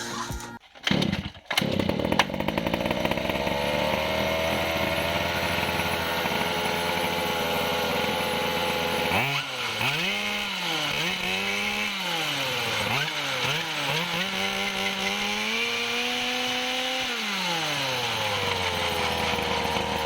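A loud electric scooter motor whirs steadily, then rises and falls in pitch several times as it revs up and down, buzzing close by with no talking.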